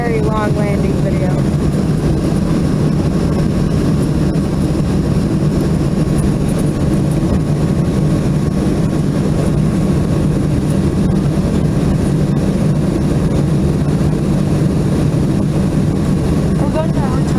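An American Eagle (Envoy Air) Embraer E145 regional jet lands, heard from inside the cabin as a loud, steady roar of engine and air noise, with faint voices underneath.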